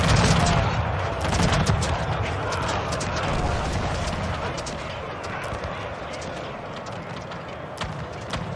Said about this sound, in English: Musketeers is firing.